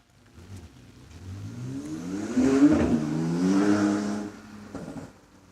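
A Ford Escort race car at a hillclimb approaches and accelerates hard past, engine note rising through the gears, loudest midway, then fading into the distance.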